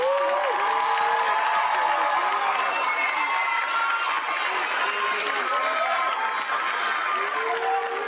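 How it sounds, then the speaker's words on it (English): A large crowd at the Watson High School 2025 graduation ceremony cheers and applauds its graduates, with whoops and shouts over a loud, steady roar of clapping that lasts the full stretch. "let's give our graduates one more round of applause"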